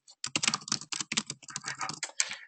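Fast, close typing on a computer keyboard, a dense run of crisp key clicks with a brief pause, heard alone without voices.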